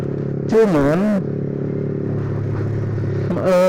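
The single-cylinder SOHC VVA engine of a Yamaha R15 V3 motorcycle idles steadily close by and is sharply blipped twice, with a speaking voice partly over it.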